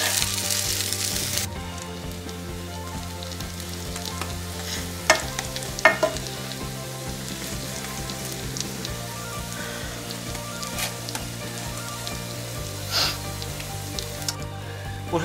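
Zucchini pizza frying in a pan, a steady sizzle heard alone with occasional soft scrapes and clinks, and a louder burst of sizzle at the start.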